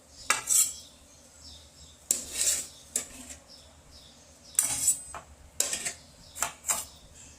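Cooked rice-flour dough (khichu) scraped out into a dish with metal utensils, several sharp clanks and scrapes of spoon against pot and plate in short bursts with pauses, close and clear.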